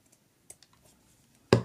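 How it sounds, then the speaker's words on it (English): A few soft clicks, then one sharp, close snip of scissors cutting ribbon ends at the end. "I would cut these little ends at an angle using my scissors"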